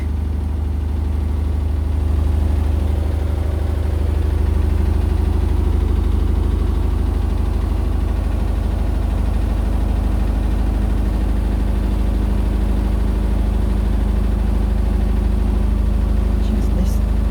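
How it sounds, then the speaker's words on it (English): An Indesit BWE101683 washing machine spins unbalanced during spin and drain, a loud continuous low rumbling vibration like a train, steady throughout and close. "The washing machine's shaking and it sounds like a train again."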